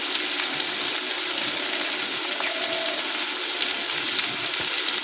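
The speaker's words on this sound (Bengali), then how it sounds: "দেখো কষানোটা হচ্ছে" Ground spices being sautéed in a pan of okra and fish roe, a steady hiss of sizzling with faint stirring scrapes, continuous and even, no voices.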